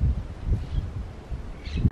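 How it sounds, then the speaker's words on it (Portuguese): Strong wind blows through the trees near a large railway bridge, giving a continuous low rumble and buffeting, with faint rustling of leaves. "Vocês podem ver aqui nas árvores aqui, ó, que o vento está realmente muito forte."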